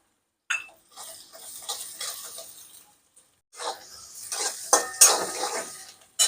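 Onion being sautéed in a pan for kande pohe: intermittent scraping and clinking of a spatula against metal in short bursts, with a brief quiet gap midway, close and fairly soft.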